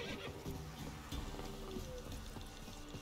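A horse in The Witcher 3 lets out a neigh over a low, busy game background, fairly faint and short, with no talk.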